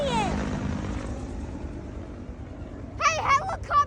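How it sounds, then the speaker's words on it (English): A helicopter passes overhead with a steady low rotor rumble under the whole stretch, while children's excited voices chatter over it near the end. "There's another helicopter!"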